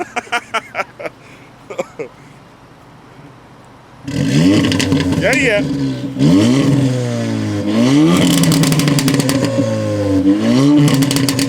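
A Volkswagen Golf R or GTI engine revs loudly and repeatedly up and down close by, after a few quiet clicks and a brief spoken word.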